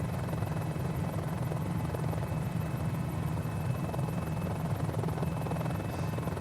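Mini-500 helicopter engine running with a steady, loud rotor throb and a thin, sustained high-pitched whine above it, continuous throughout with no talk.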